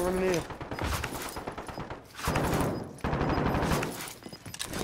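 Rapid gunfire in the Call of Duty: Warzone video game, with bursts of shots and a volley of blasts crackling loudly and close throughout, mixed with excited players talking over it.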